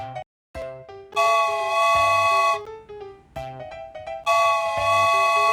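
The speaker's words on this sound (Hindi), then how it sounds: "जी, ये ट्रेन की आवाज है।" A train whistle sounds in two long, loud blasts, separated by shorter tones and clanks from a musical backing.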